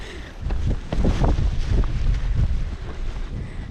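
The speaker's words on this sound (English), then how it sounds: "Man, that wind." Strong wind buffets the microphone outdoors on the Hebridean Way between Horgabost and Tarbert, a loud continuous roar with rumbling gusts and no voices.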